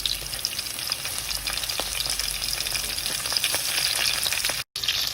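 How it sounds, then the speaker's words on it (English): Onions frying in a little oil in a pot give off a dense, steady crackling sizzle with faint stirring ticks and one abrupt cut near the end, without any speech. "Now to that pot, we're going to add our onions."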